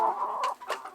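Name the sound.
chickens clucking in a flock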